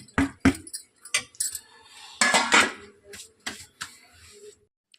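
A spoon stirs carrot halwa in a metal pot, scraping and clinking in short irregular strokes, close and fairly quiet, with a rough stretch of scraping in the middle.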